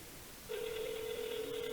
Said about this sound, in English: Oh, it's ringing. I actually hear it now.